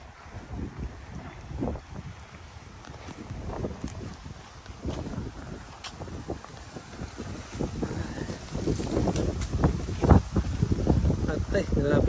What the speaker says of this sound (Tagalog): Grabing hangin niya, no?